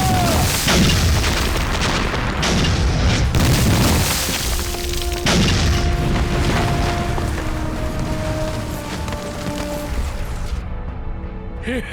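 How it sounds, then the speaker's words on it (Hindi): Bomb explosions thunder in a Chinese action film dubbed into Hindi, a heavy, continuous rumbling roar of blasts with sharp high whistles and tones sounding through the middle. "उन्हें बम से उड़ा दो।"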